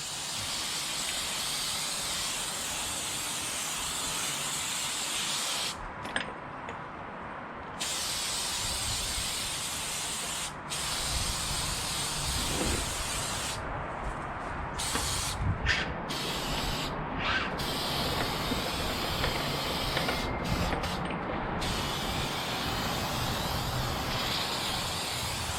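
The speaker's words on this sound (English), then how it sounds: "you're not going to harm any of the surfaces with this spray." Cleaning spray hisses steadily in close, continuous bursts with brief pauses while a 2-stroke RC car is cleaned; no voices are heard.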